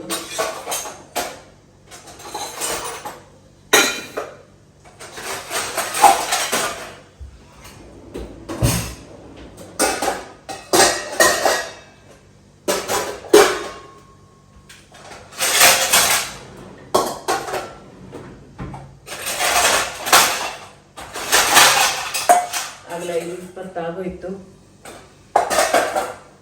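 Dishes, pots and pans being washed outdoors while sitting, with repeated clattering of metal vessels and cutlery in irregular bursts, close and fairly loud, someone speaking briefly between the clanks.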